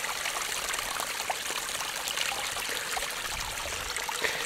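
Spring water runs steadily out of a pipe, a close, constant rushing trickle and splash that holds at an even level throughout, with no voices.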